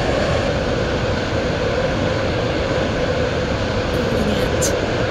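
A two-coach Class 143 Pacer train running, a loud, steady roar of engine and wheel noise heard from inside the coach with no breaks.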